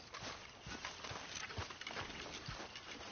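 Horse hooves walking in Red Dead Redemption 2, a steady soft clip-clop of footfalls under a constant ambient wash, moderately close and fairly quiet throughout.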